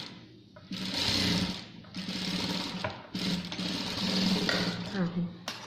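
Sewing machine stitching a two-piece bridal blouse, running in long steady bursts with brief pauses between them, close and loud; someone speaks intermittently over the whirring motor.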